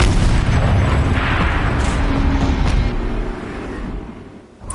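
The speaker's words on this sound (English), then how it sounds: "Rotate turret! And fire!" A heavy mounted turret in Horizon Zero Dawn fires, producing a loud, sustained booming roar with rumbling low end that fades near the end before a final sharp burst.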